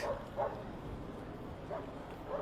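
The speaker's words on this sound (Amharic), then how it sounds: "ውሾች ደግሞ አሉ እዛ ጋር እየጮሁ ነው።" Dogs bark outdoors, somewhat distant: a few short woofs, two early and two near the end, over a low background murmur.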